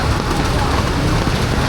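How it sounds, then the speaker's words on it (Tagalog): Dense, steady downpour roaring evenly with no break, loud and close, during flooding on Roxas Boulevard in Manila. "napakalakas po ng ulan."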